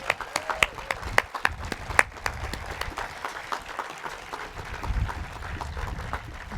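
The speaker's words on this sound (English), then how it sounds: "a round of applause for them" An audience at a Reagan Library birthday celebration for President Reagan applauds Camp Pendleton service members, with crisp claps at first, then steady crowd applause that goes on under a low murmur.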